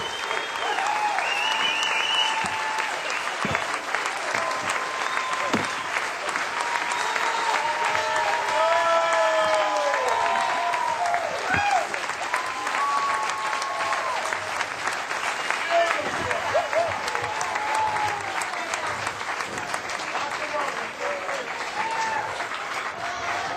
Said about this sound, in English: Another round of applause for Manny Oliveira.